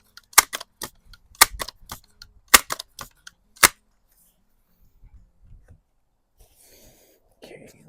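A Crosman Vapor Max air rifle fires JTS Dead Center 7.87 grain wadcutter pellets, giving several sharp, close cracks in quick succession with small clicks between them, followed by quieter handling noises.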